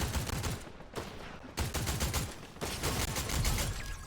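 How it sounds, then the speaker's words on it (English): Fortnite gunfire rattles in rapid continuous bursts, loud and dense, split into three long volleys by brief pauses, with no talking over it. "Crazy they're shooting me when Andy's so much closer."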